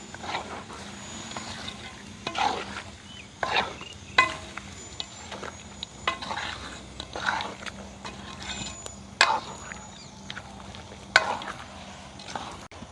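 A spoon scrapes and stirs curry with coconut milk in a pot, irregular knocks and soft scraping strokes, alongside a low steady hum and a faint background sizzle.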